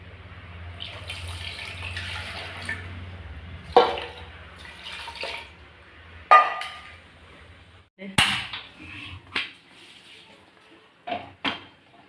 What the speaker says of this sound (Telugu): ఇందులో 1 లీటర్ వాటర్ పోసుకుందాం.